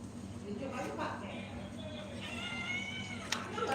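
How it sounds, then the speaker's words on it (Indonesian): Domestic cat meowing indoors, a few faint mewing calls heard under background noise and household sound during a home livestream. "kucing udah makan belum sih? Kok dia ngeong sih?"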